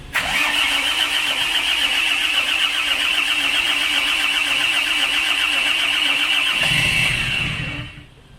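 A Hummer diesel engine cranks and fires up after years of sitting, running as a steady loud rumble close by for several seconds before it cuts off, with no talk over it.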